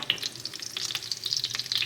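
Minced chicken cutlets sizzling steadily in hot oil in a pan, a continuous crackling fry with small pops, close up and no voices.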